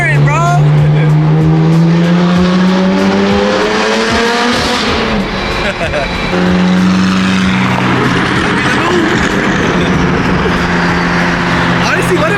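McLaren sports car engine running loud and close among other revving performance cars, a strong steady drone with harmonic bands that dip and rise, with voices over it throughout.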